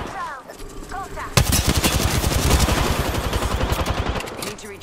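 Rapid automatic weapon fire in the Apex Legends video game breaks out suddenly and continues as a dense, loud stream of shots, with fainter sounds beforehand.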